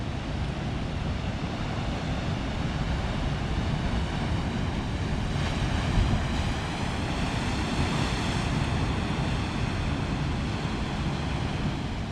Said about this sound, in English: look at these beautiful waves rolling in